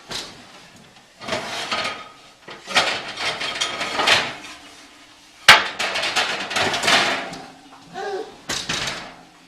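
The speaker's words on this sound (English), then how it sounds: "So I've got my pizza stone in the oven, so I'm going to pull that out." A hot pizza stone comes out of an oven onto a peel, heard as close scraping, sliding and knocking bursts with a sharp clack midway, with brief quiet gaps between.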